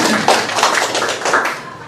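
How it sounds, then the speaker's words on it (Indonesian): A crowd at a labor movement gathering claps its hands in a short burst of brisk, overlapping claps, close and fairly loud, fading slightly toward the end. "Ya, tepuk tangan dulu lah untuk teman-teman"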